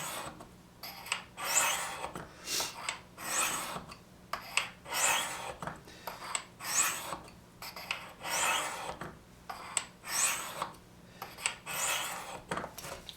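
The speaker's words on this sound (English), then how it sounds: "Just keep the blade vertical, let the angle of the fixture take care of your sharpening angle." Knife blade drawn repeatedly against a sharpening stone on an angle-guided fixture, giving steady raspy strokes in an even rhythm of about one every second, close and alone with no talk.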